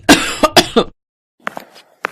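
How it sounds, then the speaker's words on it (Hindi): An elderly woman gives three sharp coughs in quick succession, followed after a brief pause by several softer, rougher coughs, close by. "आपको खांसी हो रही है?"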